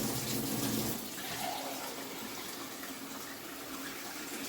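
Tap water gushes steadily into a cooking pot being filled for sauerkraut and pigtails, a continuous hissing rush with no talking.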